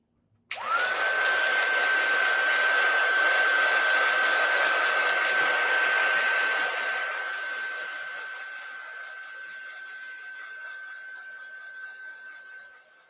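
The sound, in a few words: heat tool heat-setting stamped ink on card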